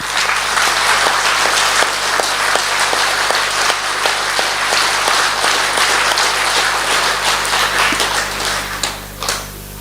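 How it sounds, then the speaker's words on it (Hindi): An audience at a Brahma Kumaris class gives loud, sustained applause, many hands clapping steadily in a hall before it tapers off at the end. "एक बार जोर से तालियां बजाएंगे"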